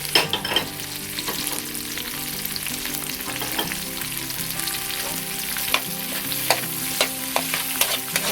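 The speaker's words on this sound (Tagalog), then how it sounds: "Ngayon po ay isusunod na natin ang ating sibuyas." Onion and garlic sauté in a hot pan with a continuous sizzle, broken by scraping clicks as a utensil stirs them, close up with no voices.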